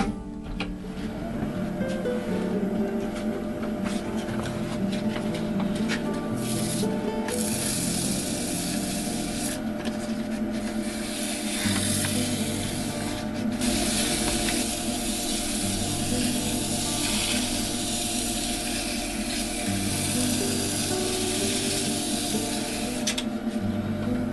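Sanding sealer applied to turned pine cones on a woodturning lathe, with a steady broadband hiss and rubbing over a continuous low motor hum, loud and close throughout, no talk.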